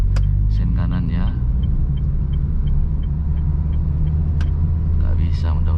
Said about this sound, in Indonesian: Wah, lepas kopling tambah gas.